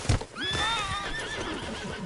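A horse in Red Dead Redemption II lets out a loud, wavering whinny after a sharp thump, its neigh rising and trailing off over faint hoof sounds, close and alone.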